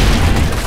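A loud explosion in a first-person shooter game, a sustained booming rumble that fills the whole short moment without pause.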